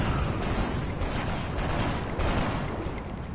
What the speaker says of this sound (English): It's going to take a desperation shot here